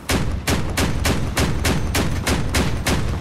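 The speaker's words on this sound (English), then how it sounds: "we got incoming cannon rounds" Heavy gunfire from the Crossout vehicle combat game, loud sharp blasts repeating in a steady rhythm roughly every third of a second, close and unbroken, with no talk.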